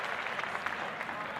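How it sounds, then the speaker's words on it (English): Steady, even hand clapping, faint and somewhat distant, with a dense rapid patter that sounds like crowd applause and no talking. "Let me clap to that"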